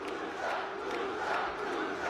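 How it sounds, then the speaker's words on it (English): A wrestling crowd at a lucha libre main event roars and cheers in a dense, sustained wall of voices that swells slightly, loud and reverberant throughout a large venue, with no commentary over it. "The crowd is on their feet. They are ready for this one."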